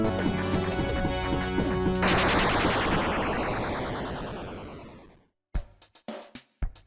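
Dense, loud crashing noise fills the Robot 64 boss fight as ice cream is fired at stars, a sustained roar that fades out and gives way to a few sharp separate hits.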